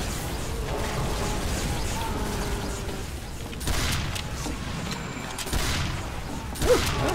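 Shotgun blasts in the video game Team Fortress 2 ring out as a few heavy, close bangs scattered over a busy backdrop of battle noise and clatter.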